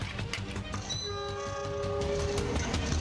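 Train rolling over a rail line in East Java that was repaired after rain washed out the track bed, a steady rumbling pass with a drawn-out horn note in the middle, fairly close.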